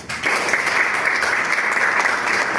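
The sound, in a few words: applause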